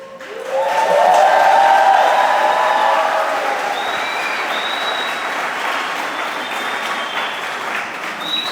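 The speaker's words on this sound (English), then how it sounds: "Well-earned round of applause" A large crowd at a school stepping-up ceremony breaks into loud, sustained applause that swells quickly and then holds steady, with a few whoops and cheers rising above the clapping.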